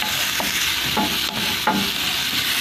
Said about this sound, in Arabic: نزلت بالبصله على معلقتين زيت